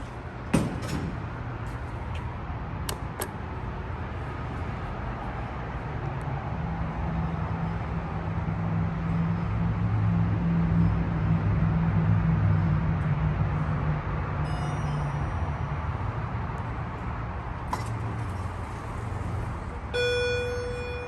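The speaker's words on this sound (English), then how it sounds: "This one's got no fan, so we can hear the motor well" Schindler 500A traction elevator motor running in a garage, a steady low hum that swells and holds through the middle, with a few clicks and clunks at the start and end.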